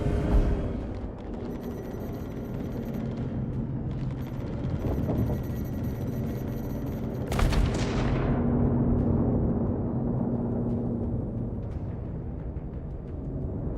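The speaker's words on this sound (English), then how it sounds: "They've been improving the explosion sounds." Video game explosions rumble in a loud, heavy roar, with a sharp blast around the middle that trails off into lingering low rumble.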